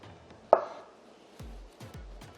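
Knife cutting bananas into thin slices for banana pudding, one sharp cut followed by a few softer low thuds of the blade meeting the board, close and isolated.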